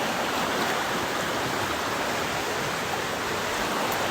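Dismal Creek on the Appalachian Trail rushes steadily past at close range, a dense, unbroken wash of flowing water with no voices over it.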